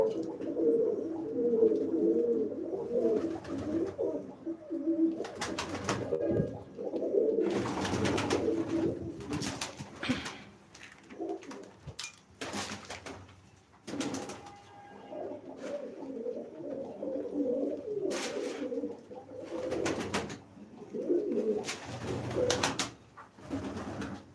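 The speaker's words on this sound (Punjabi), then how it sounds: "ਲਾਈਵ ਕਬੂਤਰ ਬਾੜੀ" Pigeons in a loft coo in low, rolling calls that overlap steadily, with sharp intermittent knocks and flapping bursts among the birds.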